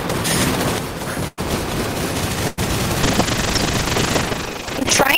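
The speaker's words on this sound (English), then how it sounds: "What is with these kids spamming shotguns, freaking miniguns?" Dense, continuous gunfire from shotguns and miniguns fills the Gun Raiders VR virtual reality shooter, a loud rattling fusillade broken by two brief dropouts.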